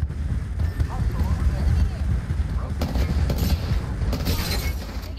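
Gunfire in the battle royale shooter Apex Legends, scattered shots and bursts crackling through a dense, busy game mix with low rumble throughout, the loudest volleys near the end.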